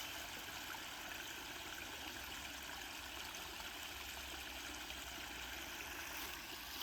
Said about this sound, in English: I sure do like the waterfall here.